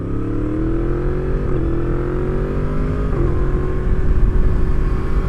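A Yamaha FZ-10 with a crossplane-crank engine drones steadily and loud, its pitch climbing smoothly through two gear changes as it accelerates under way.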